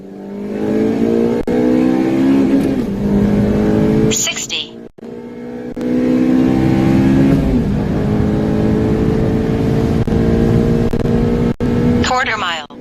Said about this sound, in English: I did a quarter-mile test on this car, 0 to 60 quarter-mile test with the draggy.